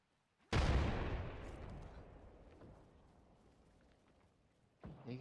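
A frag grenade detonates in the battle royale game Apex Legends, one loud sudden blast with a long fading rumble and debris tail, followed by a further burst of noise near the end.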